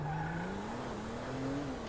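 Car engine drone with a rising pitch and steady tire noise from driving in GTA 5, continuous and fairly loud with no talk.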